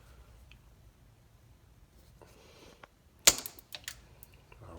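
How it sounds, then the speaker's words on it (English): Electrical lineman pliers snip through a plastic clip on a G-body Monte Carlo window, a sharp crack followed by a few smaller snapping clicks, close and fairly loud after quiet handling. "all I got me is some lineman pliers right here, electrical. See if I can cut it."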